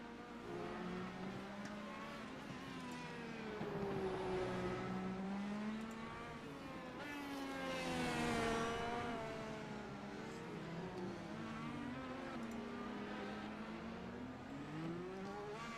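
IndyCar race cars from the video game iRacing whine past in rising and falling engine sweeps, several cars passing in succession at moderate volume with no talk.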